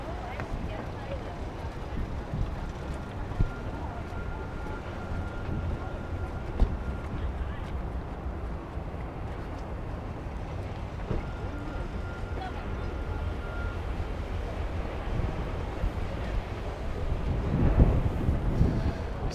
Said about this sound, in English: It is really windy back here,